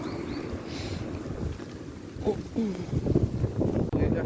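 Wind blowing along a street in Cherkasy, Ukraine, a steady rushing buffet against the microphone throughout, with faint voices and street sounds underneath.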